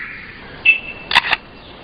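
A lyrebird in a forest imitates a camera shutter with a thin whistled tone and then a couple of sharp, close mechanical clicks in quick succession.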